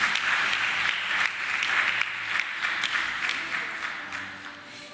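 Audience applause during a thanksgiving Mass at a school graduation ceremony, a steady wash of clapping at moderate distance lasting the full few seconds, fading slightly toward the end.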